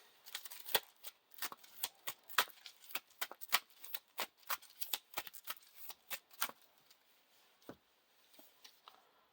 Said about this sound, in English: That shuffles this back into the encounter deck.